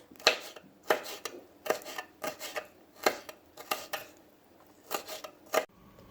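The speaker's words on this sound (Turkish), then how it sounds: "yıkayıp temizlediğimiz kapya biberi de aynı şekilde ince ince doğruyoruz" A knife chops rhythmically through red peppers on a board, crisp close taps in irregular bursts of two or three strokes with short pauses between.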